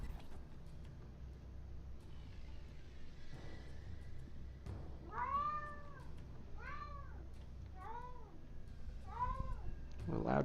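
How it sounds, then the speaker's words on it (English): Cat meows loudly four times in a row, close and drawn-out, over a faint steady background hum during a card-game session. "A loud cat visitor over here."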